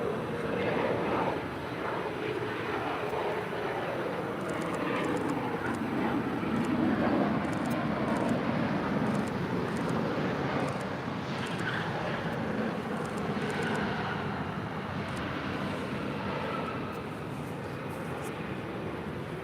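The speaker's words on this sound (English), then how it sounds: "556 coming in from Memphis, Tennessee on a 767-300 freighter" A one-year-old FedEx Boeing 767-300 freighter arriving at LAX from Memphis produces a steady, broad jet roar that holds level and fairly distant for the whole stretch, with a faint voice under it.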